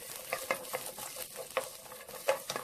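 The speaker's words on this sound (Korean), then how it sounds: "그래도 당근을 좀 볶으려고 합니다. 기름, 포도씨유 한 스푼." Carrots stir-fried in a spoonful of grapeseed oil sizzle steadily while a utensil scrapes and stirs them in irregular bursts, close and moderately quiet, with no talking.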